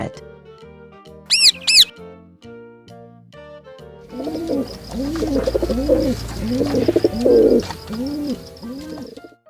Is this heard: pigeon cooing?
yes